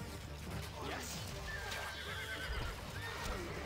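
Horses neigh and hooves clip-clop in the video game Stronghold HD, with whinnies rising over busy hoof clatter and battle noise.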